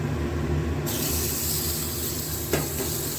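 Tomatoes frying in hot oil for a spicy chutney, a steady loud sizzle and hiss throughout with a small stirring knock near the end.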